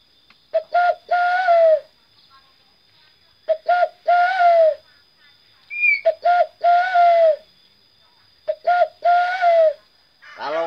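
A zebra dove (perkutut) calls up close and clearly, repeating the same quick, staccato cooing phrase four times with pauses between. A faint steady whine runs in the background.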